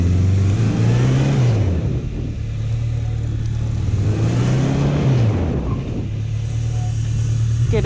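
A Honda CB1100 EX motorcycle engine rumbles loudly and close, its pitch rising and falling twice as the bike slows under hard braking with the ABS kicking in.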